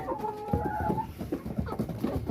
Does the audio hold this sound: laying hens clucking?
yes